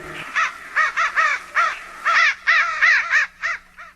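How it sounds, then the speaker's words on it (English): A flock of crows caws loudly while flying overhead, harsh repeated calls in quick irregular bursts, close and clear over a quiet background. "a murder of crows flew over me, screaming"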